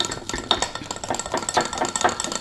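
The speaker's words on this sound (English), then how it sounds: "So you're just going to put that in there and then just mix it." Unsweetened cocoa mix stirred in a bowl, a quick repeated scraping and swishing rhythm, close and fairly clear.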